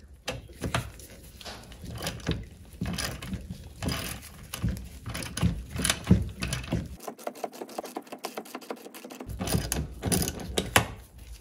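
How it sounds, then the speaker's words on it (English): A ratchet and socket work loose a hinge pin on a Mercruiser Alpha outdrive, giving rapid, uneven clicking strokes with short pauses between bursts, close and fairly quiet. "you can transition to the ratchet and socket"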